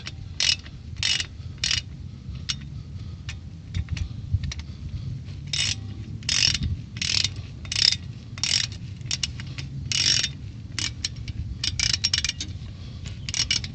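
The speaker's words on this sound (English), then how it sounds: "Socket wrench likes to be crabby sometimes." A socket wrench ratchets on a 1986 GMC Sierra during a flywheel replacement, with loud, close bursts of rapid clicking in short repeated strokes and brief pauses between them.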